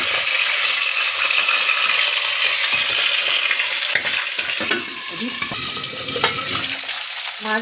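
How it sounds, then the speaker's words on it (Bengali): Tilapia pieces frying in hot oil in a home kitchen give off a loud, steady, close sizzle with crackling pops throughout, and no one talks. "এবার মাছগুলো সব ভেজে নেব"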